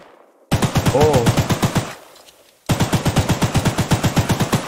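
Rapid, evenly spaced shots from a Gatling gun in the horror game Choo Choo Charles, loud and close, firing in two long bursts separated by a short pause, with a brief spoken exclamation.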